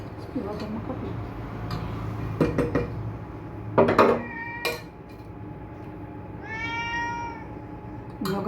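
A house cat meows once near the end in a home kitchen at lunchtime, preceded by clinking dishes and cutlery with brief sharp taps, the meow clear and fairly close.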